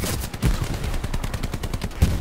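Rapid bursts of automatic gunfire crack loudly and close in a squad-based shooter game, repeated shots overlapping in quick succession without pause.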